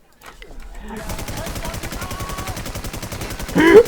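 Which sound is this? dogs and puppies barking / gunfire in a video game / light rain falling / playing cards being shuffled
gunfire in a video game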